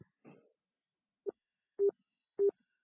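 A telephone call's ringing tone sounds as short, evenly spaced electronic tone bursts, clear and isolated against near silence.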